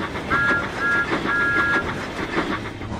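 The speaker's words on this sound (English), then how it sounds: "Thomas rattled after Spencer, whistling loudly." A cartoon steam engine rattles along the rails with a steady rumbling clatter, and three short whistle toots ring out above it in the first half. The sound is loud and close, with no voices.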